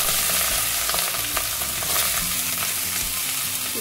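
Boiled rice tipped into hot desi ghee with cardamom in a pan over lowered flame for sweet zarda rice, giving a steady close sizzle and frying hiss with light stirring scrapes throughout.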